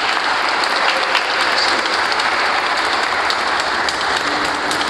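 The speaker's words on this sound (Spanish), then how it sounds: "Un fuerte aplauso para Jimena" Strong applause at a quinceañera celebration in San Luis Potosí for the birthday girl, a broad, loud wash of many hands clapping continuously without a break.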